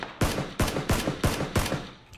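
In the battle-royale shooter PUBG, six sharp, evenly spaced gunshots crack out in a steady rhythm about a third of a second apart, each with a short echoing tail, loud and close.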